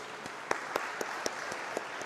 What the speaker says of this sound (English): One more round of applause to Dr. Ruth.